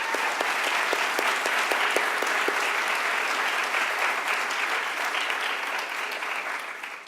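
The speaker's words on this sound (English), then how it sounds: "Maybe we can give them a round of applause." Audience applause at a rollout event: a dense, steady wash of many hands clapping, loud and sustained throughout, with individual claps audible early on and a slight fade at the very end.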